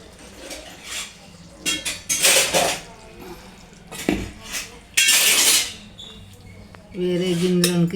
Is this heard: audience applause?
no